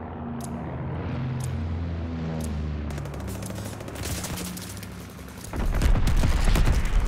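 Bomber air strike explosions rip through a shooter video game match, a dense volley of blasts and gunfire-like bursts that swells into a loud, heavy barrage near the end.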